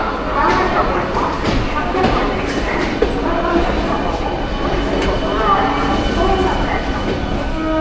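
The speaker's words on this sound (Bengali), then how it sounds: "এই যে ট্রেনটা আসছে, এই ট্রেনটা বর্ধমান লোকাল কট লাইন।" A Bardhaman local train pulling into a station in West Bengal, a loud steady rumble of wheels and carriages close by, with a voice talking over it.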